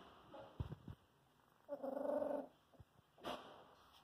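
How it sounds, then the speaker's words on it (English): Three-week-old puppies let out a few soft, brief growls and a whimpering rumble. Scattered light scuffles and taps sit around them in a quiet setting. "I love those little puppy growls"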